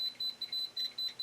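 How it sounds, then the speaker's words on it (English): A Chinese BR-6B Geiger counter sounding its alarm: rapid, evenly spaced high-pitched electronic beeps, about five short pulses in a second, clear and alone. "that is the alarm function"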